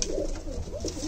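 Soft, low cooing from high-flying breed pigeons close by, a few rolling throaty coos repeating over a quiet background.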